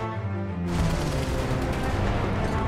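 Tank cannon blasts and gunfire in an animated tank battle short featuring an Abrams tank: a sudden loud, dense barrage erupts after a brief quiet start and keeps roaring as continuous, close, booming fire.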